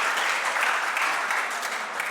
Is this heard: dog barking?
no